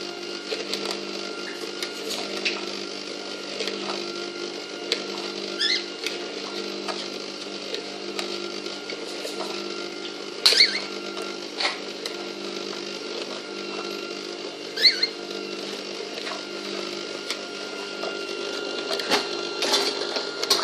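Electric stand mixer kneading steamed bun dough, a steady mechanical whir and hum that runs without a break, with a few brief sharp clicks and knocks on top.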